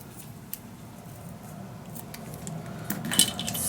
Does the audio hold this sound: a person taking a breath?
no